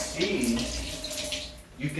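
Water runs from the tap of a Kangen water machine in a steady, close hiss and splash that lasts throughout, while a person speaks over it.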